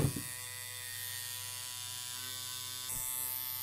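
A tattoo machine set up for lining runs with a steady electric buzz while its adjustment screw is loosened. The hum holds even and close throughout, with a brief click at the start and a slight lift in tone near the end.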